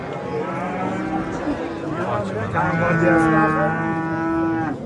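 A cow lows in a long, drawn-out moo at a livestock market, loud and near, rising toward the end over a crowded background murmur of voices.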